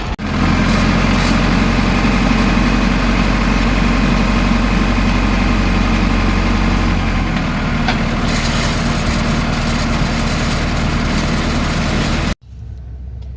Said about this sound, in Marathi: आपल्या ट्रॅक्टरसाठी डंपर पाठीमागे चाललंय.